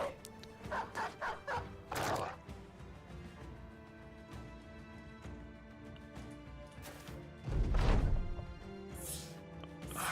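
Dogs bark in quick yapping bursts as they are unleashed in the video game Battle Brothers, a series of short barks at the start and a louder burst later over a busy game soundscape.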